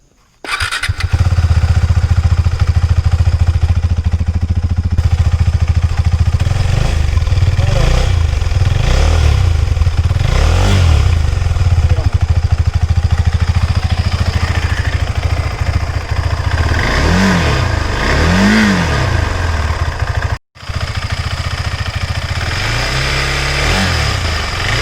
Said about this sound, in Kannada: ಇವಾಗ ನಿಮಗೆ ಈ ಬೈಕದು ಎಕ್ಸಾಸ್ಟ್ ನೋಟ್ ತೋರಿಸ್ತಾ ಇರ್ತೀನಿ